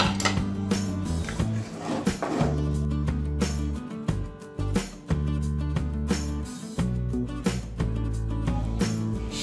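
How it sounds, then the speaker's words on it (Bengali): Beef for a dark roast curry being stirred and mixed in a pot, with repeated scraping and clinking knocks of a spoon against the metal under steady background music. "এখন আমি সবগুলো ভালো করে একসাথে নেড়ে চেড়ে মিশিয়ে নিচ্ছি।"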